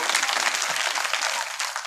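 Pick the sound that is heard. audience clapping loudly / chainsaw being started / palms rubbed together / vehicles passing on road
audience clapping loudly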